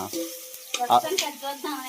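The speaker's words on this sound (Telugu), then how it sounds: "మనకి ఉల్లిపాయ పచ్చిమిర్చి బాగా అయిన తర్వాత అల్లం వెల్లుల్లి పేస్ట్ వేసేస్తున్నాం." Ginger garlic paste sizzles in hot oil with onion and green chilli in a home kitchen pan, a steady close frying hiss broken by a few louder stirring scrapes and bursts.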